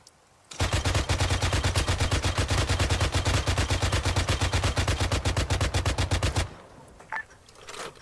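Sustained machine gun fire from Arma 3 pours into a vehicle in a long, loud, rapid, evenly spaced burst of about six seconds, then cuts out, leaving a quiet tail with a faint, brief sound.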